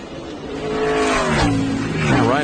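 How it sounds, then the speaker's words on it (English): A beat-up NASCAR Xfinity race car, the 16 car, revs up and pulls away after going off track at Road America in 2017, its engine rising loudly and climbing in pitch over crowd and track noise. "Now, Ryan's got it going again, but that 16 car is beat up."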